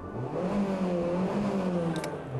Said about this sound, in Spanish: Abarth tiene unos motores espectaculares que fijaos cómo suena